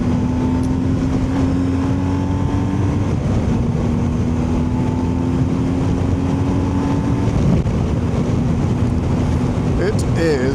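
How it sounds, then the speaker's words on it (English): Blustery outdoor weather with steady wind buffeting the microphone, a constant low rumbling roar and whooshing throughout, with a faint tonal hum underneath. "it is quite blustery"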